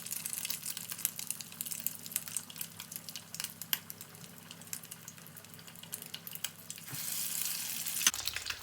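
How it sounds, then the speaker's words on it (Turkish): Soft, crackling sizzle of kadın budu köfte meatballs frying in oil in a pot, continuous and faint, with occasional pops and a brief clink near the end. "Köftemizin dört tanesini attık tencereye."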